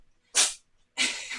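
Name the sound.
cat sneezing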